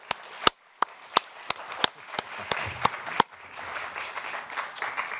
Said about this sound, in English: Please give this group a round of applause.